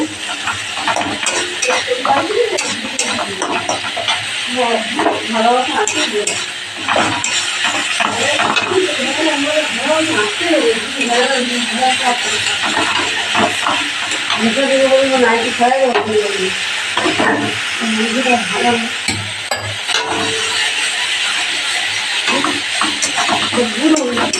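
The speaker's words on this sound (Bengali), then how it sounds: "এবার মশলাটাকে ভালো করে কষিয়ে নেব" Masala spice paste is stirred and fried in a pan for a Bengali bhola fish and eggplant curry, giving a steady sizzle with scraping and clinking of the spoon. A voice talks over it throughout.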